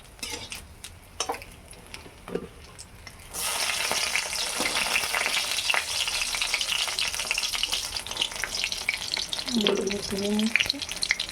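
Bhetki fish frying in hot oil in a pan, a few utensil clinks first, then a sudden loud steady sizzle that continues close, with a brief voice late on.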